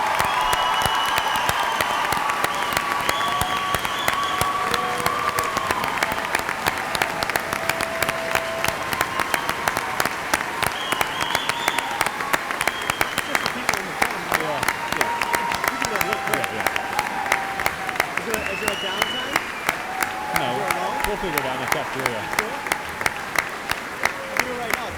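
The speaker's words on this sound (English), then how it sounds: "Let's give them one more big round of applause." Long, sustained applause from a large crowd at a 2018 high school graduation, with scattered cheers and voices rising through it, steady and loud for the whole stretch.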